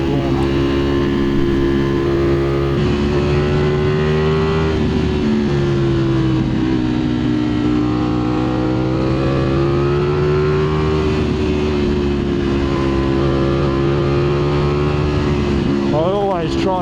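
A 2025 Ducati Streetfighter V4S motorcycle engine droning steadily while cornering on a road, loud and close with wind rush and gently rising and falling revs throughout.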